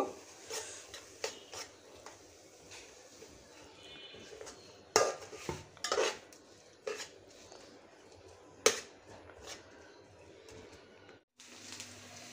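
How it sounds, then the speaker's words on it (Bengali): Cooked spinach greens are scooped from a pan into a serving bowl, with scattered close clinks and scrapes of a utensil against the metal pan and the bowl, quiet and without talking. "শাক বাটিতে তুলে নিয়েছি।"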